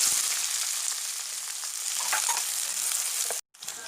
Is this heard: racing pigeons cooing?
no